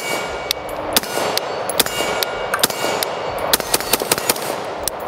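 Sharp gunshots from an AR-15 rifle chambered in 6.5 Grendel ring out at an outdoor range, about a dozen reports spaced irregularly over a steady background hiss, each crack loud and close.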